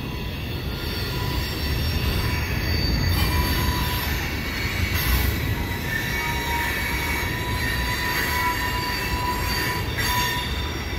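A long CN freight train rolls past near a bridge coming off the Butler Spur, wheels squealing in sustained high metallic tones over a continuous loud rumble of cars, with no voices.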